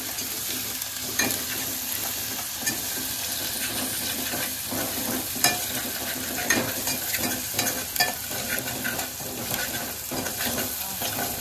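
Onion sizzling in hot tempering oil with curry leaves and ginger-garlic paste, for a Malvani fish curry: a steady close frying hiss with scattered scraping stir clicks throughout.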